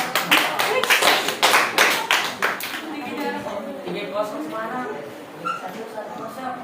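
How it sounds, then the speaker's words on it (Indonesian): A classroom group claps for a student presentation team, a burst of quick, dense handclaps for a couple of seconds that fades out as voices take over. "Tepuk tangan untuk kelompok 5"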